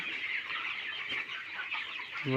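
Chickens cluck steadily inside a poultry shed on a hot night, a dense, continuous flock murmur at close range with a soft thump near the end.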